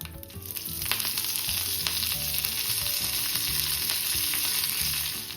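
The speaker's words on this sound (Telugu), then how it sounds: "ఆవాలు చిటపట్లాడుతున్నాయి" Mustard seeds, cumin, urad dal and chana dal tempering in hot oil with dried red chillies and curry leaves for sweet potato chutney give a steady, close crackling sizzle with sharp pops throughout.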